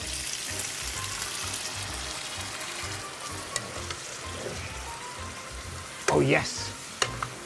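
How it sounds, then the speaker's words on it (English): Wine hisses and sizzles loudly in a hot pan over high gas, a steady close crackle, with a brief exclamation from a voice near the end. "Now I turn the gas right high because I'm going to put the wine inside"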